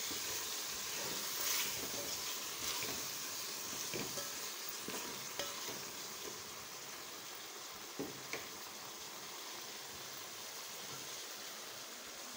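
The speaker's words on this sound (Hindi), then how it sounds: "अब इसको अच्छी तरह से मिक्स कर लेते हैं।" Spices like dried coriander, salt, red chili, turmeric and chicken powder are stirred into a frying mixture in a pan, a low, continuous sizzle broken by scraping spoon strokes and occasional clacks.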